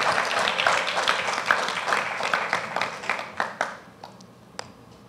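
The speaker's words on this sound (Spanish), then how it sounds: "¿Qué le parece si usted le da un fuerte aplauso a nuestro Dios en esta mañana?" A church congregation claps during a Sunday morning service, a dense broadband patter that gradually thins into scattered, separate claps before fading near the end.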